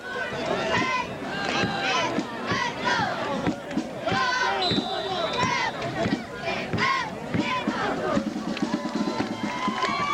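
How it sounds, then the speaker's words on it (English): A crowd cheers at a 1999 high school football game between Pewitt and Rivercrest, the noise rising and falling beneath a play-by-play announcer who talks over it almost continuously. "Roaring crowd here at Rebels Riverdome Swamp Thing Stadium"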